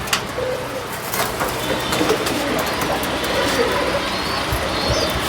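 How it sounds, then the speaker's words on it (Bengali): Old-bloodline highflyer pigeons released outdoors at a loft, with soft cooing and occasional faint wing flutters over a steady background hum. "আসুন বন্ধুরা ছেড়ে দেখি পায়রা"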